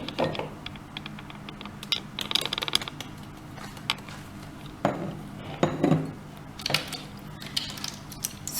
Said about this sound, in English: We will first mix all the dry ingredients in this bowl.